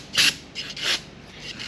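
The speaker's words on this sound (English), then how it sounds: "give the exterior a little squirt and clean just some of the dirt and grime off of it" A Whizzer engine exterior is scrubbed clean of dirt and grime with short, close rasping rubs, two stronger strokes followed by fainter ones.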